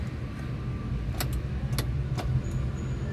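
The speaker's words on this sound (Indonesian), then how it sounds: "kita nyalakan. Nah, starterannya tek jreng." A 1994 Isuzu Panther Hi Grade with the 2.3 engine turning over, a few short clicks and cranking bursts from the starter over a low, steady engine drone, heard close up.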